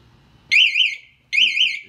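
ToaTao Thunder Chinese scooter alarm, armed and triggered, blares two loud warbling electronic siren bursts close to the microphone, separated by a short pause, with no talking.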